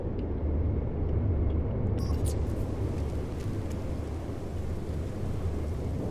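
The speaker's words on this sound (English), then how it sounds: "It's a fairly benign storm, I guess." A steady storm in No Man's Sky, a loud continuous windy rumble with a low roaring wash that holds evenly throughout, with no talking.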